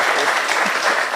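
Audience applause at a conference session, a dense steady wash of clapping that fills the whole short moment without pause.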